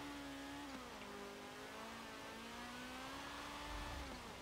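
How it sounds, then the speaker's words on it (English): A car spins its wheels in first gear in Forza 7, a steady droning engine note with tire noise, fairly faint and continuous. "My first gear, wheel spin."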